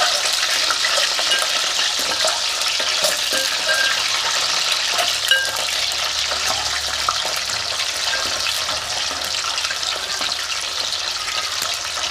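An egg fries in a pan of oil with a steady, dense crackling sizzle that holds at an even loudness throughout, close up, with faint pops and no speech.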